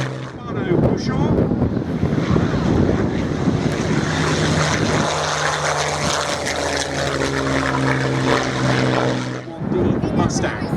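A Buchon fighter's piston engine drones loudly overhead at an air show, holding a steady tone for several seconds before fading, with a voice speaking under the engine noise.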